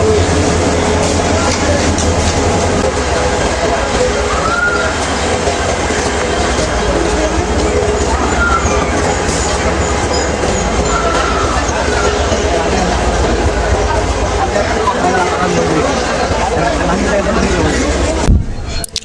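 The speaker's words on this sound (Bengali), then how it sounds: "এই যে আমাদের মেঘনা ট্রেন এসে থেমেছে চট্টগ্রাম স্টেশনে" Loud, steady rumble of the Meghna Express passenger train rolling into Chattogram station with rail noise and faint squeals, people talking beneath it, ending in an abrupt clatter.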